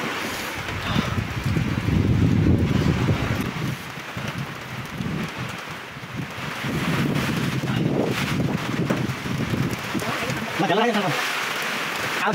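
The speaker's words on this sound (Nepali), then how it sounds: "देख्न सक्नुहुन्छ, पानी परिरहेछ।" Heavy downpour, the first in many days, roars as steady broadband rain noise through the whole stretch, with wind buffeting the microphone and a person talking over it.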